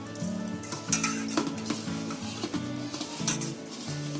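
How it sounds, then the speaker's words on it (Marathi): Kofta mixture stirred in a bowl with a spoon, giving repeated light metallic clinks and scraping taps in an uneven rhythm, close and fairly quiet. "आता हे आपल्याला मिश्रण मिक्स करून घ्यायचं आहे"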